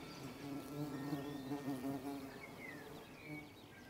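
Wild bees buzz steadily among the open blossoms of old orchard trees, a dense, continuous hum of several insects close by, with individual wingbeats rising and fading and no voices.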